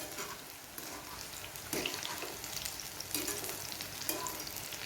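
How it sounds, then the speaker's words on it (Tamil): Cauliflower 65 pieces fry in hot oil, giving a steady close sizzle with occasional stirring scrapes and flare-ups as the pieces are turned. "நமக்கு எல்லா பக்கமும் நல்லா ஃப்ரை ஆகணும், அதனால லைட்டாக திருப்பி விட்டுக்கிறேன்."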